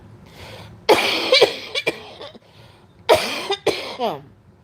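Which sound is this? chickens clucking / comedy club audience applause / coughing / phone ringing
coughing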